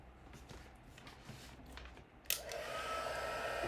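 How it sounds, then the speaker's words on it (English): Heat embossing tool switching on to a steady close blowing whoosh over embossing powder, preceded by quiet handling sounds and taps. "now I can find my heat tool"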